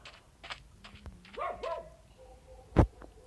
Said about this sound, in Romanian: Stai că mi-a nebunit iar câinile, scuzați.